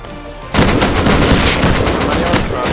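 Rapid automatic gunfire from the video game Rust bursts in after a quieter opening and hammers on loudly and steadily, with some chatter faintly underneath.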